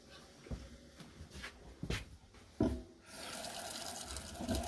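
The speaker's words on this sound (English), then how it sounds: "So we're going to add a little more water." Water is poured into a pot of meat being prepared for home canning. A few soft clinks and handling noises come first, then a steady, close pouring and splashing sound continues to the end, with no talking.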